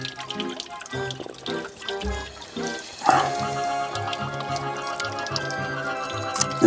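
Cold carbonated mineral spring water in Armenia trickles and drips steadily close by, with a brighter splash near the middle and a continuous thin wash of running water throughout.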